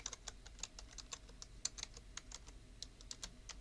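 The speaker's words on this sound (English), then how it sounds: "we are going to type in take ownership" Rapid, uneven keystrokes on a computer keyboard, close and fairly quiet, clattering in a steady burst while a command is entered on a Windows 11 PC.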